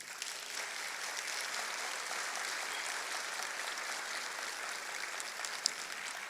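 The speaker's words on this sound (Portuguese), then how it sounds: "Uma salva de palmas." Audience applause at a talk as the next speaker is called to the stage, a steady wash of clapping from a crowd, fairly distant and even throughout.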